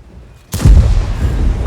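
A tank destroyer cannon fires in a video game, the Skorpion G: one sudden heavy boom with a low rumbling tail, loud and close, no voices.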